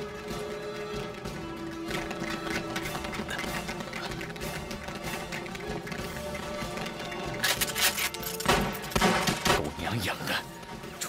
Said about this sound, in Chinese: 铁虎他们听到枪声，应该很快就会过来。